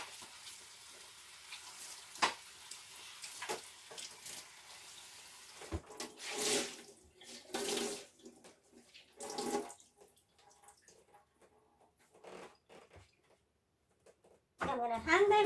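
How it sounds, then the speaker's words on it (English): Tap water runs over freshly harvested garden herbs being rinsed at a sink, a splashing, uneven flow in bursts with pauses between, close to the microphone. "just gonna rinse this out and take it off"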